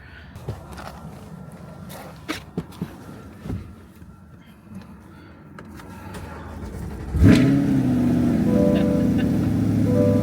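A Chevrolet C8 Corvette with a check engine light sits with scattered clicks and knocks, then its engine fires up with a loud, sudden start and settles into a steady, rumbling idle close by.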